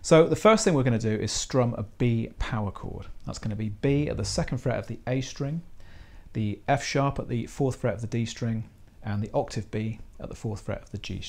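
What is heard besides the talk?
None of the usual background noises is heard.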